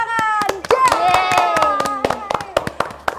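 Several sharp hand claps come in an irregular burst during a children's educational show, mixed with a lively voice running through the whole moment.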